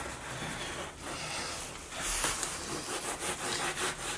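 Steady brushing scrubs a motorbike chain clean, close and quiet, with a continuous rasping rub that swells in short repeated strokes, no talk.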